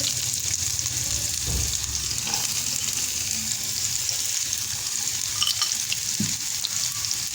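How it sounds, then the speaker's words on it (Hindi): Chopped onion goes into a pan of hot oil for chicken bread samosa filling, setting off a loud, continuous close-up frying hiss with a few soft stirring knocks. "1 टेबल स्पून ऑयल डाल दिया है पैन में। अब इसमें ये प्याज डाल देंगे।"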